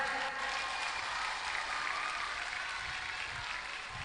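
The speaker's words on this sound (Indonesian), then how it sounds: "tepuk tangan." Audience applause fills a Santri Day (Hari Santri Nasional) ceremony held by the East OKU regency government in South Sumatra, a steady, dense clapping that lasts throughout at moderate distance.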